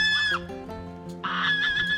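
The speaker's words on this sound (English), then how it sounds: "Love our geese." Geese honk nearby in a quick burst of loud, nasal calls, a couple of overlapping honks at the start and another clear call near the end.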